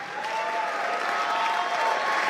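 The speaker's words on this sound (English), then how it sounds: "Can you just give yourself a really big hand clap?" A big round of hand clapping from an audience of faith leaders at an interfaith conference, a smooth, continuous wash of applause that holds steady at an even level throughout.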